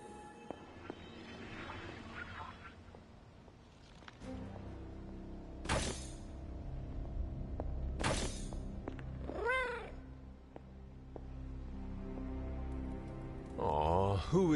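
A house cat named Hunter, wearing a collar, gives a few clear, close meows with a wavering pitch. Sharp clicks and clatter sound in the background between the calls, and a faint low purr may run underneath.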